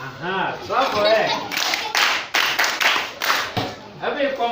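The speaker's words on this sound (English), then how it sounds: "Clap for it." Children at a maths bootcamp clap in a quick burst of several sharp, close claps, with a person talking just before and after the clapping.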